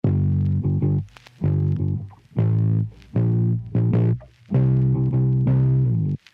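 A bass line played on guitar and pitched down sounds deep and buzzy, with short phrases of sustained low notes separated by brief gaps, close and alone.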